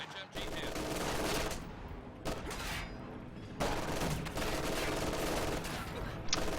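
Dense, continuous machine gun fire rattles through a video game battle, with sustained bursts broken by brief pauses, loud and close throughout.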